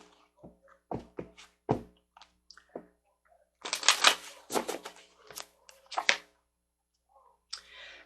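Tarot cards are shuffled and drawn with close, crisp riffles, taps and thunks, with a dense burst of shuffling in the middle and quiet gaps between.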